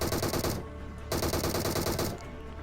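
Rapid automatic gunfire in the BGMI mobile battle game, two dense sustained bursts separated by a brief pause, loud and up front.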